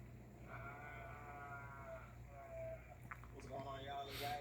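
Sheep bleat in wavering calls at a moderate distance, with people talking over them and ambient outdoor noise.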